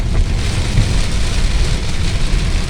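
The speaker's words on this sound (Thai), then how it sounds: "ฝนตกแรงมากนะครับ ตอนนี้" Heavy rain pours steadily, a dense, constant roar of drops with no pauses and no voices.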